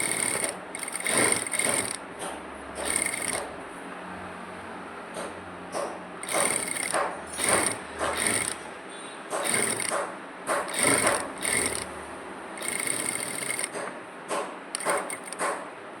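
A sewing machine stitching churidar lining, running in repeated short bursts of rapid mechanical whirring separated by brief pauses, close and loud with no talking.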